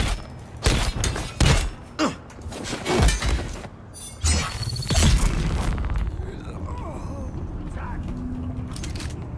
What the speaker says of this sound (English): See, look, first thing he does, chuck a grenade.